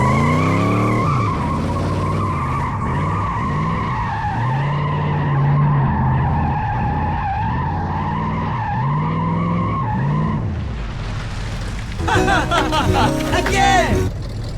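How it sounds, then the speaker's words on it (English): Burnout in a 1979 El Camino, with tires screeching in long wavering squeals over a revving engine, loud and close, growing harsher and rougher near the end. "I thought that was a pretty damn good burnout, and I didn't want the fun to stop there"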